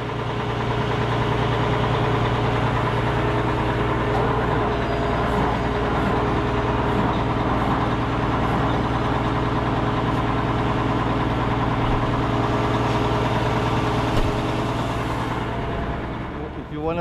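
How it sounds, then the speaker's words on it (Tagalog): A truck engine idles steadily with a low, continuous rumble and faint knocking, close and constant throughout, with no talking over it. "Iba na yung tunog ng isang truck."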